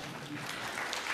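An audience clapping after a scientific talk, a short dense burst of applause at moderate distance with a voice speaking over it.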